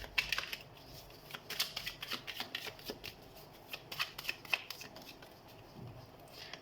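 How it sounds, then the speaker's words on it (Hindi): Tarot cards are shuffled close by in quick, crisp bursts of flicking and riffling, fairly quiet and irregular in rhythm, with no speech. "तो हम कार्ड शफल कर लेते हैं"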